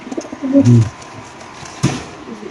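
Pakistani pigeons in a loft cage give a short burst of close, throaty cooing, followed by a sharp click and quieter rustling.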